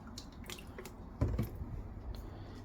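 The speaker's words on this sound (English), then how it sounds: "where we are just going to now open the top and then just pour it in" Liquid fabric conditioner poured from a bottle into a washing machine detergent drawer at home, giving soft squishy glugs and a brief louder splash midway, close and quiet with no talk.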